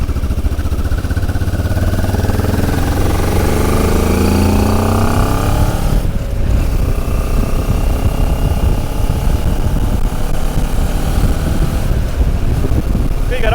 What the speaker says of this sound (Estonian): See on kusjuures esimene kord, kui ma mootorrattaga sõidan